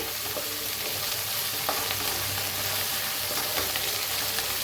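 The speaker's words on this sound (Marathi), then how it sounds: "चांगलं भाजून घेऊया, हलवून घेते।" Onion and garlic paste frying in a pan, a continuous close sizzle with light scraping as it is stirred, steady and fairly quiet with no talk.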